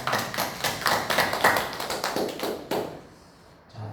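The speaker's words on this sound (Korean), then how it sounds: "모든 영광을 우리 하나님께 우리 박수로 영광을 돌리겠습니다." Congregation applause at the close of a Wednesday church sermon, a dense patter of many hands clapping steadily for nearly three seconds before fading off into quiet room tone.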